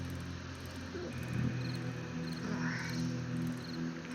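Crickets chirping at night in 7 Days to Die (Alpha 19, Darkness Falls mod), a steady faint trill over a low droning game ambience, with no voices.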